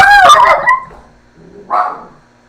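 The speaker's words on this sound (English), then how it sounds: "My dog is stupid and all that." A pet dog barks close and loud: a quick burst of sharp barks followed by a single shorter yip after a brief pause.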